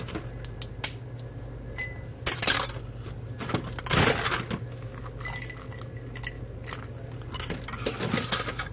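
Ice clinks and rattles against glass as a spirit-forward cocktail with orange bitters is stirred, a quiet run of irregular chinks and taps over a steady low hum.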